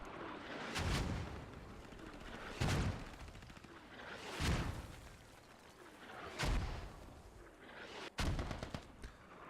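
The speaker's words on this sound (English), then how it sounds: "You can see mortars still flying in." Mortar shells landing in a military video game match, heard as five deep, rumbling booms spaced about two seconds apart, each followed by a fading roll, with a sharper crack near the end.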